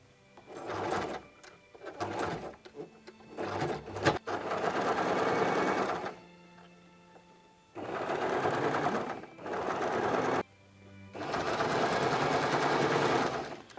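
A sewing machine stitches the edge of a children's patchwork quilt in several bursts of rapid, rattling stitching, each a few seconds long and separated by short pauses and light handling clicks.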